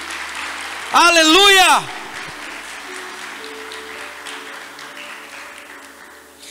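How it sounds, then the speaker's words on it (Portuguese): A church congregation applauds during a sermon, a steady wash of clapping that runs through the clip and fades toward the end, briefly covered by a loud shouted exclamation from a voice. "aplauda Jesus bem forte por essa palavra em nome de Jesus"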